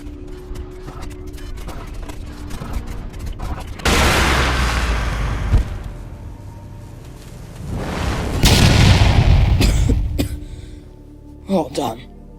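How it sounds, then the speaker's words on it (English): A heavy explosion booms in the video game Project Playtime, a sudden loud blast followed by a rumbling roar that swells again before fading, with a voice talking and reacting around it. "Oh, that explosion hit hard."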